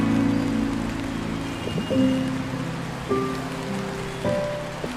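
Rain in the narrative video game Until Then, a steady patter of drops on surfaces running throughout, layered with soft sustained musical tones that swell at intervals.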